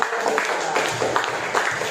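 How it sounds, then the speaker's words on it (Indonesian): Schoolchildren in a classroom give a short burst of hearty hand clapping at a teacher's request, a dense, steady patter of many hands lasting about two seconds, with a voice faintly mixed in. "Beri tepuk tangan yang meriah."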